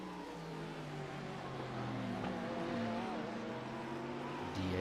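A Porsche GT3 race car's engine at Long Beach drones and revs at mid distance, steady and rising slightly, with other race cars mixed into the steady track noise.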